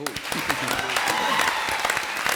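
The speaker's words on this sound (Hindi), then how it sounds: "एक बार फिर जोरदार तालियां।" A studio audience at a comedy show breaks into applause, a dense, even wash of clapping that runs under an overlapping voice.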